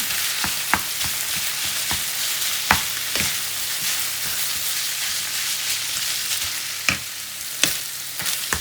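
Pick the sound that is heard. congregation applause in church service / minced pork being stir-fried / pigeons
minced pork being stir-fried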